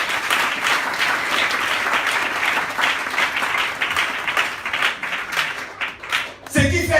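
Congregation applauding during a Pentecost church service, dense clapping that holds steady and then thins toward the end, with voices mixed into the crowd noise.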